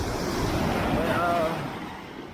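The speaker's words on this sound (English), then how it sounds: "Just listening to the waves crash." Ocean waves wash onto the sand at Miami Beach in a continuous, fairly faint roar, with wind buffeting the microphone and the surf easing slightly toward the end.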